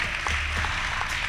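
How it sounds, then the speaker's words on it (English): A brief burst of audience applause at a debate on the Nigerian constitution greets the judges: dense, even clapping that fills the room for just over a second, with no voices on top. "Your judges, give them a round of applause."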